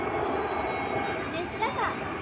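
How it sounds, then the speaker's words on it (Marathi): A distant aeroplane drones faintly over a Mumbai chawl neighbourhood, a low continuous engine rumble beneath the hum of surrounding city noise. "तुम्हाला एरोप्लेन लांबून येत आहे. आला जवळ, आला लई जवळ."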